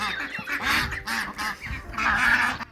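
A small backyard flock of ducks calls out in a loud, nasal quacking chorus, overlapping honks rising and falling close by in a garden setting, with no speech.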